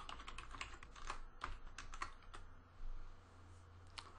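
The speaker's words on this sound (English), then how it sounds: "Now let's type in a C program" Fingers typing a C program on a computer keyboard, an irregular run of close, crisp key clicks with brief pauses, over a low steady hum.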